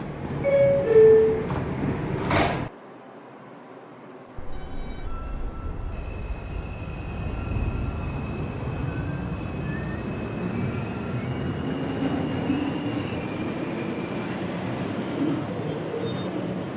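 An R142 subway train on the 2 line runs between stations toward Wakefield, a low continuous rumble with a rising rolling roar and faint high wheel tones after a brief chime and a quiet gap.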